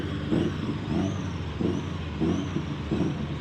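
A modified car at a cars-and-coffee show spools its turbo in repeated short bursts, with rising whistles and engine surges over a steady idle rumble in the background.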